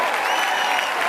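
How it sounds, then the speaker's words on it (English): Dense audience applause greeting new members on stage at a 5LINX presentation, a continuous loud roar of clapping from a large crowd. "Give them a real Five Links round of applause to all the new family members getting started"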